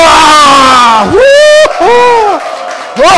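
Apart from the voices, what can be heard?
audience shouting and cheering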